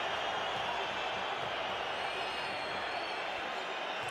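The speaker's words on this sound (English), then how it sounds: "Crowd don't like it." A large crowd at a Euroleague basketball game between Baskonia and Olympiacos fills the arena with a steady, loud wash of disgruntled murmuring and whistling after a foul call, sustained throughout.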